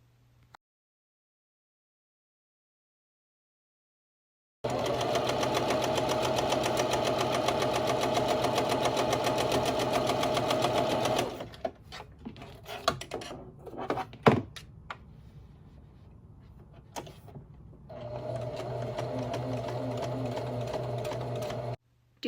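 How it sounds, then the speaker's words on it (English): Sewing machine stitching quilt batting to exterior fabric along grid lines, running in a steady continuous whir for several seconds, stopping for a few handling knocks and clicks, then starting up again. "We're going to pin the batting to the exterior fabric and sew over the grid lines."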